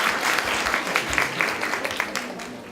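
Audience applause for a guest lecturer at a Brazilian public health conference, a steady dense wash of clapping across the whole stretch, fairly close and even in loudness.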